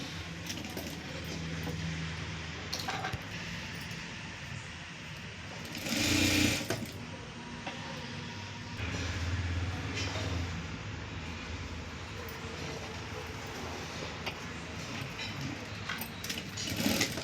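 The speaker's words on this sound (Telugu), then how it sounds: "ఇప్పుడు ఇవి 2 కలుపుతూ ఒకటి కుట్టు వేసుకోండి" A sewing machine stitching two blouse pieces together, its fast steady mechanical whir running in several bursts with brief pauses, close and fairly quiet.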